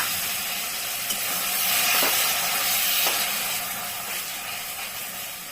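Water poured into a hot pan while braising taro greens with prawns, giving a steady bright steam hiss with faint scraping clicks and a gentle swell and fade.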